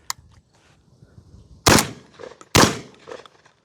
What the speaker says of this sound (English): firing a regular shotgun, firing an Italian shotgun